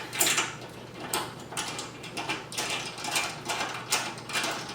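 An adjustment knob on an AeroPilates reformer machine being tightened, a series of close mechanical ratcheting clicks repeating at a steady rhythm roughly every second, with faint rubbing between turns.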